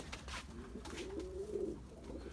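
Pigeons coo in a loft full of young birds and chicks, a soft, low burbling call rising in the middle of the stretch over faint rustling and background murmur, quiet and close.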